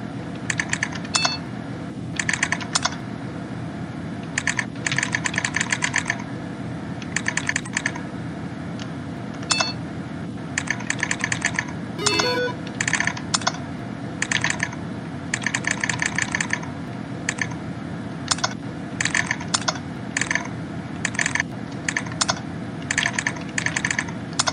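Rapid clattering keystrokes on a computer keyboard come in quick bursts separated by short pauses, crisp and close over a steady low hum, with no voices.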